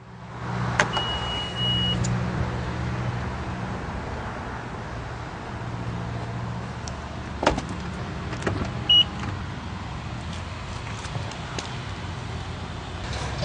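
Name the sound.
power liftgate of a 2018 Honda CR-V closing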